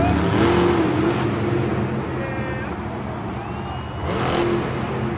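The Grave Digger monster truck's engine revs during a Monster Jam skills competition in an arena, a loud, continuous roar that rises and falls, with a crowd noise and a faint voice underneath.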